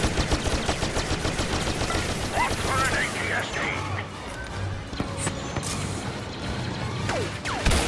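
Rapid automatic blaster fire and impacts in the Battlefront Star Wars shooter game, a fast rattling burst up front giving way to scattered shots, whooshes and crashes, with voices talking over the action.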